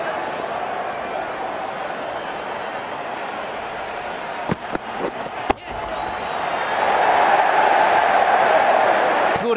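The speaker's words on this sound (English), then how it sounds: "It's going to be hard for the bowler to focus with the crowd this excited." Stadium crowd in the Ashes Cricket video game, at a Fast5 match between Pakistan and England, roars in a continuous wash of noise that swells louder toward the end, with a few sharp knocks partway through.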